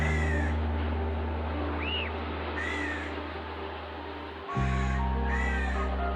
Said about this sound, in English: thousands of crows remain gathered over the town